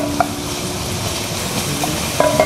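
Onion and garlic sauté in a pan with a steady sizzle, while a utensil makes light stirring clinks and scrapes, a few of them near the end.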